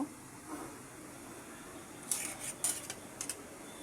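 A spoon stirs a vegetable curry of snake gourd and hilsa fish with onion paste in a pot, giving a few soft scraping clinks and taps near the end, alone and fairly quiet.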